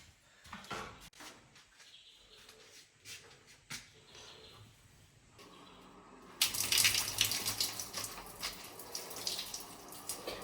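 Water runs from a shower outdoors by the Zambezi in Mana Pools, Zimbabwe, faint and sputtering at first with scattered drips and knocks, then gushing louder and steadier halfway through.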